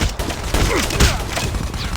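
Rapid gunfire in the mobile shooter game Call of Duty Mobile, a dense burst of close, loud shots crackling over a busy game backdrop for about two seconds.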